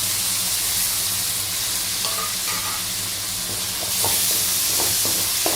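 Chopped tomatoes fry with crab in a pan, giving a loud, dense hiss of sizzling oil that swells near the end, with a run of spatula scrapes and knocks against the pan, close by and without speech.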